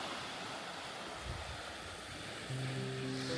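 Ocean surf washes onto a beach in Wales, a faint, steady broadband rush of distant waves with a soft swell partway through and no voices.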